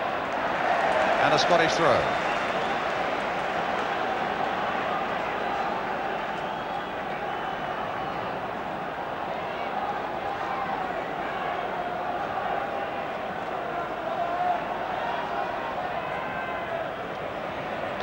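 Stadium crowd at a 1978 Scotland v England Home International football match, a steady broad roar with swelling cheers under continuous commentary, loud and sustained throughout.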